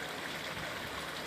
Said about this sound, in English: Just the sounds of water running over the rocks in this babbling brook.